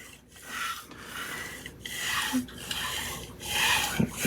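A kitchen knife is drawn across a whetstone in repeated steady rasping strokes, close and moderately loud, with short pauses between passes.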